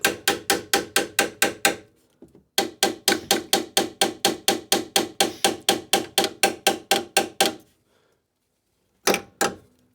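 Rapid, loud metallic hammer blows strike a Rover 75 wheel in quick bursts of about ten to fifteen hits, separated by short pauses, with a final pair of blows after a longer gap.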